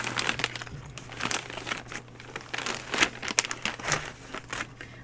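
Crinkling plastic bag handled while unboxing yarn, with a small Lovecraft's zipper bag for crochet hooks; a steady run of close crackly rustles and crunches, rising into sharper bursts in the middle, with no talk.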